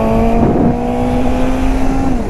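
A Suzuki GSX-S 750 motorcycle revs hard, its engine a loud, steady droning whine held close by for about two seconds before easing off slightly, with no talking.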